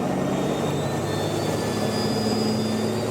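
A compound-turbo diesel truck rolling at about 50 mph pulls at quarter throttle with 6 pounds of boost, giving a steady, loud engine drone with a whining turbo tone throughout.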